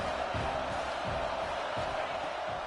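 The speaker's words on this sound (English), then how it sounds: "This crowd knows when to bring it." A stadium crowd in an American football video game keeps up a steady, dense roar with faint whoops throughout, loud and continuous with no pauses.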